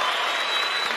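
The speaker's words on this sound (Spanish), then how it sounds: "Un aplauso para ustedes." A live audience applauding, dense steady clapping from a large crowd that fills the whole brief moment, loud and close with no voices over it.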